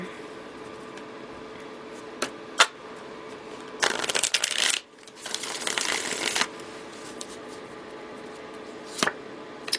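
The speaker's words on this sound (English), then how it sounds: "One more shuffle." Tarot cards riffle and shuffle in a couple of quick, crisp bursts, with a few isolated taps and clicks before and after in a quiet room.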